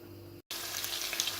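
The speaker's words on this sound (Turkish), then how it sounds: "Efendim yağımız kızdıktan sonra kemikli eti ilave ettim. Ve kavuruyorum." Bone-in meat frying in hot oil in a home kitchen pan, a steady crackling sizzle that briefly cuts out and returns, bright and close with no talking over it.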